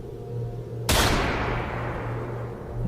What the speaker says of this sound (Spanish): Un disparo se escuchó a lo lejos, en lo profundo del bosque